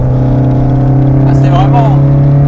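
An Alpine Berlinette A110 sports car drives on the Montlhéry circuit, its engine holding a loud, steady drone heard from inside the car with a brief voice partway through.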